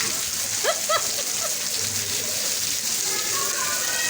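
Steady rain falls as a dense, even hiss with no break, while a few brief voices and faint bird-like chirps sound in the background.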